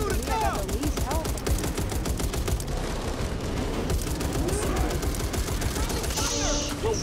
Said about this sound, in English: you gotta shoot him in the mouth